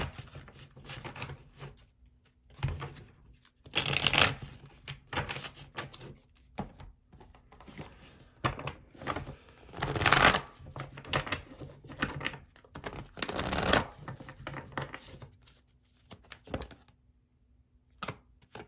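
Quick bursts of riffling and snapping as a deck of reading cards is shuffled, several separate flurries with quiet pauses between.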